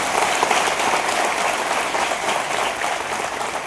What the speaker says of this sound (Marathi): एक मोठा टाळ्यांचा गडगडा होऊन जाऊ देत